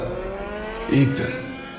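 A motorbike roars along an empty road, a steady engine drone that swells into a brief louder rev near the middle before settling again.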